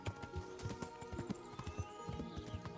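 Steady clip-clop of a wild horse's hooves trotting at an even rhythm in Kingdom Come: Deliverance, close and clear over a faint musical background.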